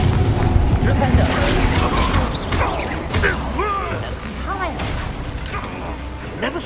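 Spell-combat effects from Hogwarts Legacy, including the Confringo blasting spell: booming impacts, whooshing swoops and crashes layered densely over shouted spell incantations and voices.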